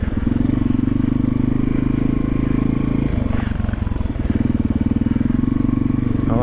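A Yamaha XT350 enduro motorcycle with freshly serviced forks runs under a rider, its single-cylinder engine a steady, close, throbbing drone that shifts pitch briefly midway as the ride continues.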